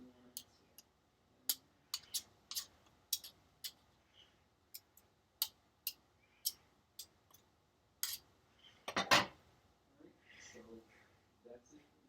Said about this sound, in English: I'm chopping these pieces of butter into small